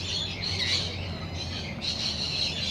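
A pet bird squawks repeatedly at close range, making harsh, shrill calls in near-continuous bursts with a brief dip midway and no talking.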